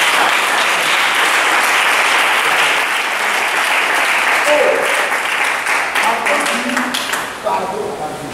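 A church congregation applauds during a service, a loud, dense and continuous wash of clapping lasting several seconds with voices mixed in underneath.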